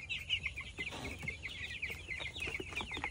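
A flock of broiler chicks about 11 days old peeps and clucks softly in a poultry house at night. The chirping is rapid, overlapping and continuous, with faint rustling below it.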